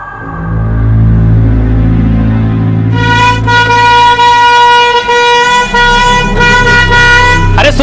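A low vehicle engine rumbles on a busy road, then a loud, brassy horn blares and holds steadily for several seconds, nearly continuous and close by, over the ongoing engine noise.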